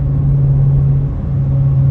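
Inside a lowered Dodge Charger R/T driving over a bumpy road, a loud, steady low engine and road rumble drones on with no talking.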